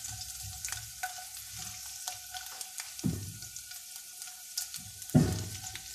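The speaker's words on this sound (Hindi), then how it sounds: "बस थोड़ा सा सौते हो जाए।" Garlic sautéing in a hot pan gives a steady close sizzle, with two louder bursts of stirring and frying noise and no talking.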